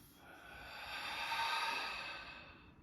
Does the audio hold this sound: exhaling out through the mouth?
yes